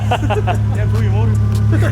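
A Toyota 1JZ engine idling steadily in a Nissan S14, a constant low drone under people talking nearby.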